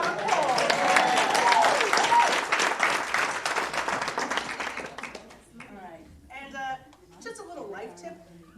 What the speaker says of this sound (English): Let's clap for that joke